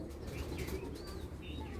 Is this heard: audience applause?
no